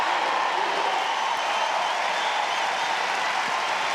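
A tennis crowd at a 2005 US Open semifinal between Federer and Hewitt cheers and applauds for Hewitt, a steady, dense wash of clapping and crowd noise that holds at an even level throughout.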